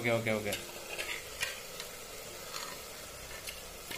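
Mutton being stirred and fried in a pan for biryani: a sizzle runs throughout, broken by spoon scrapes and a few sharp clatters, close and moderately loud, with no talking.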